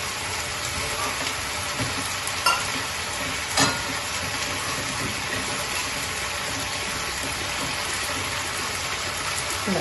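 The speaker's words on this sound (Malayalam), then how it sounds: "ഇനി ഈ പാല് കിടന്നിട്ടൊന്ന് തിളച്ച് കിട്ടണം" Coconut milk gravy with salmon simmers in a pan, a steady close bubbling hiss with a few brief clinks, and no voices.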